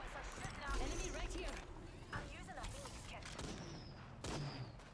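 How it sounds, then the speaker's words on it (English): Another player in the Apex Legends video game fires on the player from high ground. Several bursts of rapid gunfire crack and rattle under ongoing voice chat, loud at first and then in shorter volleys. "Getting shot by another guy on the high ground."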